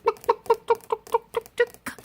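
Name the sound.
Mille Fleur d'Uccle rooster clucking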